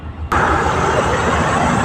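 An LLI bus on the Alabang–Lucena route runs its engine close by, a loud broadband roar that kicks in abruptly after a brief quieter moment and holds steady.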